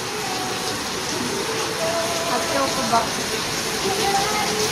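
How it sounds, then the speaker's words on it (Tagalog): Steady rain falling outdoors, a dense, continuous hiss heard close and fairly loud throughout, with a voice speaking briefly over it. "Umuulan pa nga din po sa mga oras na to"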